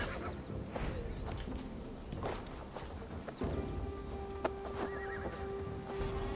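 Horse in the video game Assassin's Creed Valhalla neighing with a drawn-out whinny over soft hoof clip-clops and footsteps, moderately close, with a brief sharp knock partway through.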